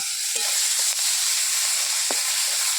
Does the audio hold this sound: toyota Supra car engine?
no